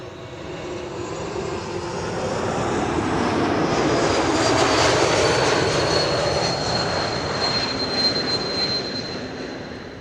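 Airliner returning to Amsterdam Schiphol after a possible bird strike, its engines roaring loud and close as it passes, swelling to a peak midway with a high whine before slowly easing.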